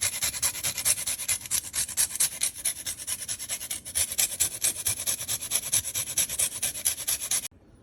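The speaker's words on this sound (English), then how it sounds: "I'm adding some lemon zest." A lemon is zested over a plate of pasta, giving close, rapid rhythmic rasping strokes that continue steadily before stopping abruptly near the end.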